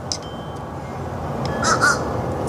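Outdoors under gray skies, a large raven calls with a couple of rough croaking caws late in the stretch, moderately loud above constant low ambient noise, with a faint call earlier.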